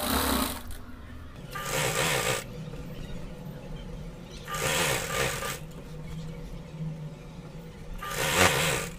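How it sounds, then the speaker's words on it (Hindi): A sewing machine stitches a gharara in three separate runs of steady whirring, each a second or so long, with quieter pauses of fabric handling between them. "तो इसी तरह हमको सिलाई कर लेना है।"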